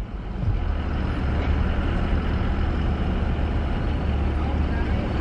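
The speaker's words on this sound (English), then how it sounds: "We've got a loud truck behind me." Loud truck idling behind a car in a fast-food drive-thru, a steady deep rumbling drone that stays constant throughout, close and dominant.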